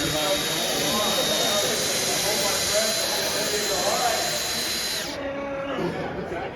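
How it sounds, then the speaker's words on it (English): A Snap Drill cutting a hole into a pipe gives off a loud, steady, hissing whine with a constant high tone. The sound stops abruptly near the end, leaving quieter background noise. "Drilling a hole with one finger"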